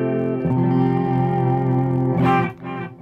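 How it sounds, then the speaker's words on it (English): Clean electric guitar tone from a PRS guitar played through a Supersonic amp with a touch of delay, sustained chord ringing steadily, then a fresh strum near the end, heard alone and up close. "PRS into Supersonic with a little bit of delay."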